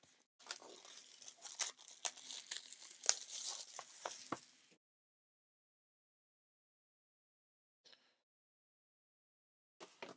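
A SolForge Fusion Alpha Starter Kit has its sealed plastic wrap torn open, giving close, loud crinkling and ripping for several seconds. Silence follows, broken by two faint brief rustles.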